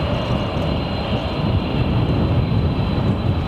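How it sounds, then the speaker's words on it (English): A Boeing 747 airliner at London Heathrow Airport produces a loud, steady roar of jet engines that fills the air without a break and with no voices. "Boeing 747"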